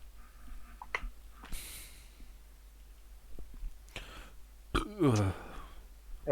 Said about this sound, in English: Apologies for the burping.